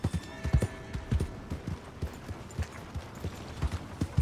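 Horse hooves clip-clopping in Red Dead Redemption 2 beat out a steady, rhythmic trot of distinct thuds, fairly quiet and close, with no other prominent sounds.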